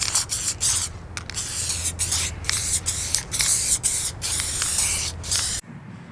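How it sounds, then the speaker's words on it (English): A spray paint can sprays outdoors in repeated hissing bursts of varying length, close and loud, with short gaps between them and an abrupt stop near the end. "sitting out here, watching me spray paint"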